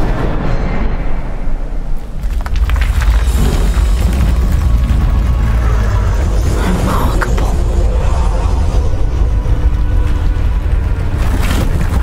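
An Incendio fire spell cast in Hogwarts Legacy gives a loud whooshing roar that swells after a brief quieter lead-in and keeps rumbling with crackling bursts, near and continuous.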